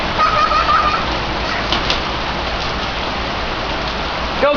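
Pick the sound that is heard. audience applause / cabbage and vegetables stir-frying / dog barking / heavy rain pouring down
heavy rain pouring down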